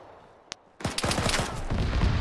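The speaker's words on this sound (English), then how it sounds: "Taking fire from the BMP." Heavy gunfire from a BMP infantry fighting vehicle during an airsoft-style operation: one sharp crack, then a sustained dense barrage of rapid shots, loud and continuous.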